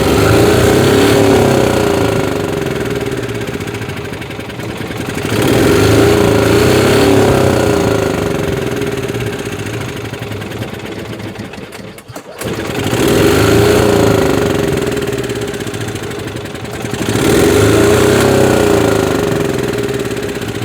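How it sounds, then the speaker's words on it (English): A loud engine revs up and down repeatedly in long swells, rising in pitch then easing off, close by with a brief cut midway. "it's definitely revving much faster"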